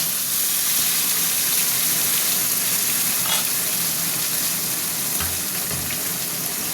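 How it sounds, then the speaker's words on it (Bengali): A spice paste, crushed whole garam masala, hits a pan on low gas and fries for malai chicken, a steady broadband sizzle running throughout with a few brief scraping stirs, close and alone. "গ্যাসটা কমিয়ে দিয়ে এবার আমি মশলাটা ঢেলে দেবো।"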